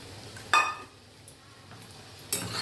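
Marinated chicken seasoned with turmeric, chili and salt goes into a pan and is stirred, giving two sharp clinks of a utensil against the pan, faint scraping between them, and a low background hiss.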